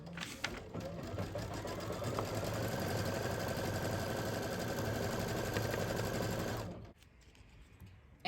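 Continuous close whir of a sewing machine stitching little eyes, running steadily for about seven seconds before stopping abruptly into quiet.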